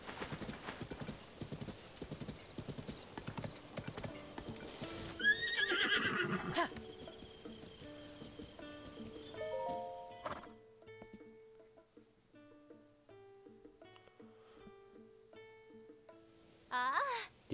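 A horse in the video game The Legend of Zelda: Tears of the Kingdom trots with rhythmic clip-clop hooves, then neighs. Quiet game music follows, and a whinny returns near the end.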